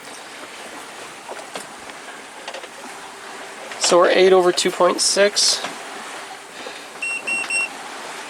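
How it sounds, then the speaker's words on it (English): Wind and water wash steadily around a sailboat running on sail alone with the engine off, a soft continuous hiss with a few electronic beeps and a person talking over it midway. "we kill the engine and we get to enjoy the peaceful sounds of sailing on only the ocean and the wind"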